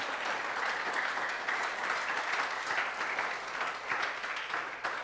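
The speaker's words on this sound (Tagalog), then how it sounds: "Palakpakan natin ng malakas sa Panginoon." A church congregation claps loudly and steadily for the Lord during a sermon, a dense, sustained burst of applause filling the room for about five seconds with no talk over it.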